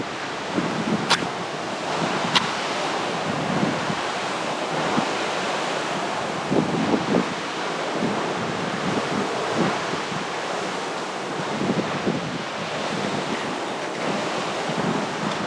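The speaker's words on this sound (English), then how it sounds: "This wind is making it quite difficult." Strong Arctic wind blows steadily as a broad, even rushing roar with occasional gust swells, while someone tries to get a campfire going; no voices are heard.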